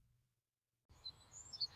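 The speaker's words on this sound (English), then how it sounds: "Listen, can you hear the birds?" Small birds chirp from a tree at a playground, a few high, bright calls after a moment of near silence, fairly faint and distant over a low outdoor hum.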